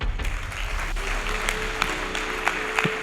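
A church congregation applauds for teachers, a dense steady burst of clapping from many hands with a few sharper claps standing out.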